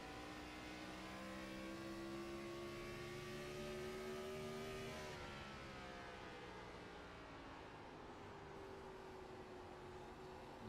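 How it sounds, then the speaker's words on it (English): A race car engine at the Milwaukee Mile oval holds a high, screaming rev under constant rushing noise, its pitch easing down midway before climbing again. "You can hear the RPMs these cars are turning right before they lift."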